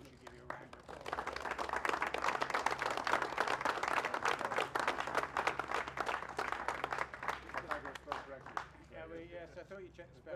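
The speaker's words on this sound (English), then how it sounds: "I wish to give you a round of applause." A crowd at the opening of a new archive centre breaks into applause, with many distinct claps building to a steady roar and then thinning out, while voices are faintly heard near the end.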